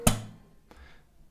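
A gentle percussive clap of the hand against acoustic guitar strings, a single soft slap that is quickly damped, followed by a faint second tap, close and quiet with no talking.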